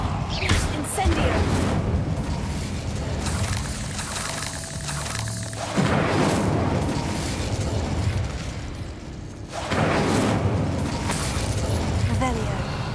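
Fire spells cast in the game Hogwarts Legacy: a series of roaring, crackling bursts, with loud whooshing blasts near the start, around the middle and toward the end, amid continuous action sound effects.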